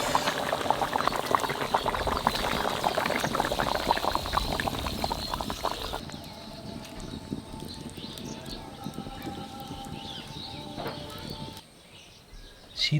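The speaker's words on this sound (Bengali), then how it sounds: "মাছটা খুব সুন্দর সিদ্ধ হয়েছে" Hilsa fish simmering in mustard sauce for shorshe ilish, a close steady bubbling boil with a soft liquid hiss that quiets partway through, and faint background noises.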